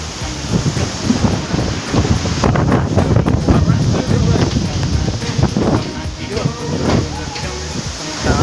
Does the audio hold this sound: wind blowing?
yes